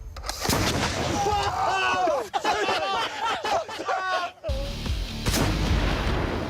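A mortar fires and its shell bursts, heavy booms over excited shouting voices and chatter, loud and close, with a sharp blast near the end.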